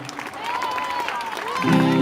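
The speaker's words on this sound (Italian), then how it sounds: "Vi ringrazio di questo applauso che quasi mi ha commosso" A theatre audience claps and cheers for a performer on stage, a dense warm wash of applause with a voice rising over it and building louder toward the end.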